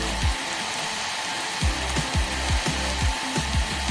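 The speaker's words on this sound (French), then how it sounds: "Mettez le sèche-cheveux à fond." A hair dryer runs flat out with a loud, steady whoosh, and rhythmic rubbing or scraping strokes repeat beneath it.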